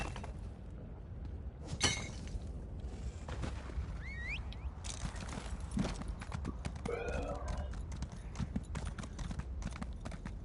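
A horse's hooves clip-clop continuously in the online role-playing game Elder Scrolls Online, accompanied by small metallic clinks of tack and a brief whinny, with faint talk in the background.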